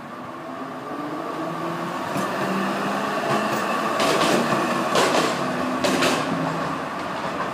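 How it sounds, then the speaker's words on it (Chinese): A Melbourne tram rolls along a suburban shopping street in Brunswick, a steady rumble rising as it nears, with a few sharp metallic clicks and clacks from the wheels and rails. "墨尔本这种电车比台北捷运还方便"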